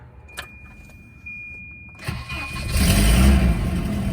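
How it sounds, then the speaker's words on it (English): A Volvo 240 that has sat for days cranks and fires, with a quiet key click and chime first, then the starter catches and the engine settles into a loud, close idle. "Now I'm gonna start this up and back it out so I can do some work on a different car"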